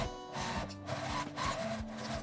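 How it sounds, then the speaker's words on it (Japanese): A sewing machine runs steadily, edge stitching the folded hem of thin fabric for a zippered medicine-notebook pouch, with a close mechanical whir and a rhythmic needle rattle that continues without talk. "端ミシンをかけます。"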